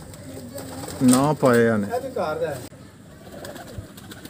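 Pigeons from a high-flyer breeding loft coo close by, blending with a voice talking over them in the first half before the sound drops to quieter background.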